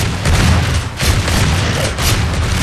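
Video game gunfire from blind firing roars in dense, loud bursts, a continuous crackling barrage with brief dips between volleys, close and overwhelming.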